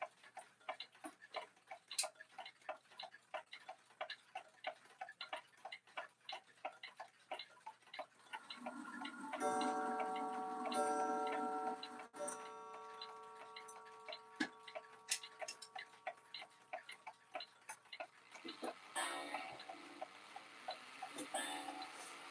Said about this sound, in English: I'll turn the chimes on this one.